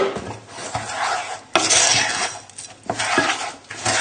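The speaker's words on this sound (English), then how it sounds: "So just tip it in and give it a good stir together." A spoon stirs biscuit crumbs into melted butter in a bowl for a lemon cheesecake base, giving gritty scraping and rasping strokes with occasional sharp knocks of metal against the bowl, close and fairly loud.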